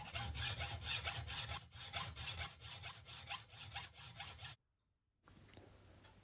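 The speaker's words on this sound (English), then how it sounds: "I grip the bolt in my vise and use my hacksaw to cut it off to length" Hacksaw cutting a tough cap head bolt gripped in a vise, a close run of rhythmic rasping back-and-forth strokes that stops abruptly, followed by a moment of silence and faint room noise.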